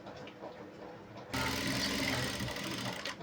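A sewing machine kicks in after a quiet start, top-stitching a pant seam half an inch from the edge with a close, steady mechanical chatter.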